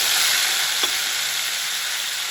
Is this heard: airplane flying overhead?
no